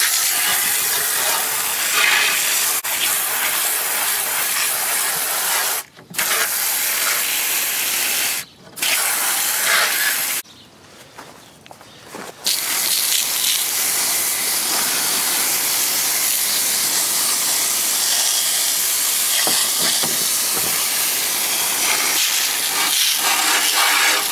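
A water sprayer hisses loudly and continuously against the dusty coil of an LG 8,000 BTU window air conditioner, close up, with a few brief pauses where the spray stops before resuming.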